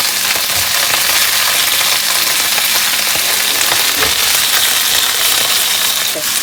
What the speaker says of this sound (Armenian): Տապակում ենք մյուս կողմից